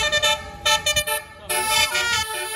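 A tour bus sounds its telolet horn on a road, a close, loud run of short musical toots followed by longer sustained melodic blasts, with brief traffic sounds between notes.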